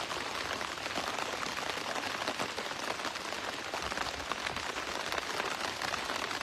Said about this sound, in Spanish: Ya está lloviendo, gracias a Dios.